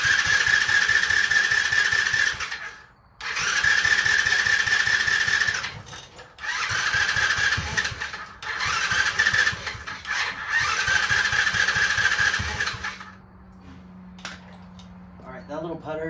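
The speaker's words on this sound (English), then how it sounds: "I was just using starter fluid to get that to fire, but that little putter is enough to let me know that I have spark." Chinese ATV engine turning over and briefly catching on starter fluid, with several long cranking bursts in a row and short pauses between them, then a quieter idle-like tail as the engine dies.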